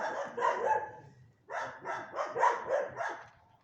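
A dog barks from inside its kennel, a short burst of several close, loud barks, a brief pause, then a second run of five or six barks in quick rhythm, alone with no talk.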